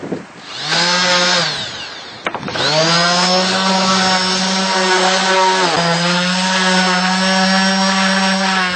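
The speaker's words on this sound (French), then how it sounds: "maintenant on va les poncer un petit peu pour que la pénétration du produit et de la lasure soit meilleure" A power sander works over routed wood pieces with a loud, steady motor whine, briefly dipping and restarting before holding a continuous high drone, close to the microphone with no voices.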